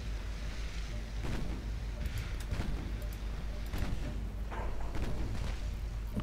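Naval gunfire from enemy warships in a 1944-era Ultimate Admiral Dreadnoughts battle: dull, distant booms and thuds recurring every second or so over a constant low rumble of sea and engines.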